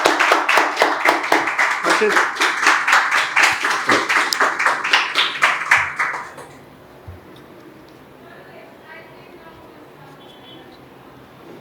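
Students in a classroom clap for a classmate named Harshit in a quick, rhythmic burst of several seconds, then the clapping stops abruptly and a quiet room remains, with faint talking.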